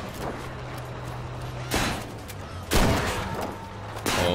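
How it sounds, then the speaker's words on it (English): Bursts of gunfire in Battlefield 5 alongside a squad mate during an anti-tank rifle match; two or three heavy, booming shots with long noisy decays over a low droning background hum. "My squad mate here is shooting at him at the same time"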